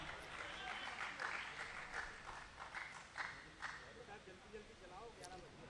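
Applause from the audience at an Urdu mushaira poetry gathering in Ichalkaranji, quiet and somewhat distant, with uneven bursts of clapping that thin out over several seconds and voices murmuring underneath.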